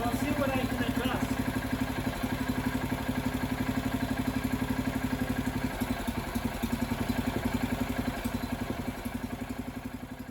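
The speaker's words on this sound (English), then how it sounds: "That right there was the second startup of the Kohler engine on the John Deere 300." Kohler K341 single-cylinder engine on a John Deere 300 garden tractor running steadily at about idle speed, a close, loud, even chugging throughout with some clatter, with no talk over it.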